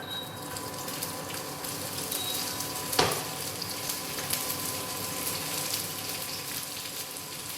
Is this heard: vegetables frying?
yes